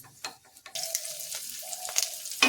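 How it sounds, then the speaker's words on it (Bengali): Fish frying in oil in a pan for a Bengali kalmi greens dish, a soft steady sizzle that rises after a brief quieter start and holds at a moderate level, with faint clinks and stirring. "মাছগুলো ভাজা হয়ে গেছে"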